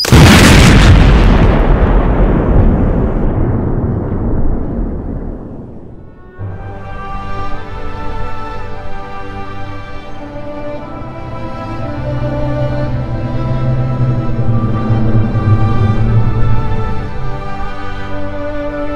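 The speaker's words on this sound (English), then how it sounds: "I think it's a bomb." A bomb explodes in the video game Poppy Playtime 3, a loud deep blast that booms and decays over several seconds before a sustained musical drone takes over.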